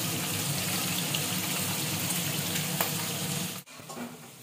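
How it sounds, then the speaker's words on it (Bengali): Pointed gourd (potol) fries in a pan with a steady, dense sizzle that carries on without a break, then drops away sharply near the end before a few quieter clatters. "আর এখন হচ্ছে পটল ভাজা।"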